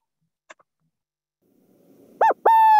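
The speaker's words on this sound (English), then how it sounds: "Burrowing owl." Burrowing owl calls: after near silence and a faint click, two clear close hoots ring out in quick succession near the end, the second held slightly longer.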